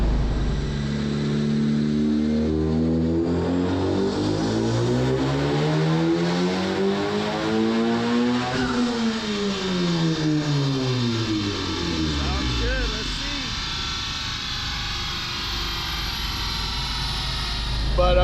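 A Honda FK8 with a 560 hp build, running on a dyno, revs loudly and continuously, its engine note sweeping up through the gears and then dropping back down, with a whining drone holding throughout.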